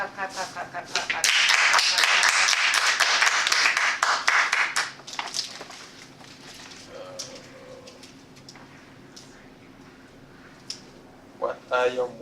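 Audience clapping at a Toastmasters club meeting, dense and fairly loud for several seconds before thinning out and fading to quiet room tone, with a few scattered claps near the end.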